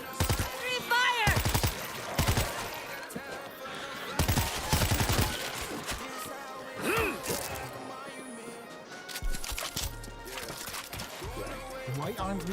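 Bursts of rapid gunfire and crashing impacts from the video game World War Z, loud volleys that stop and start over a music bed, with game characters talking between them.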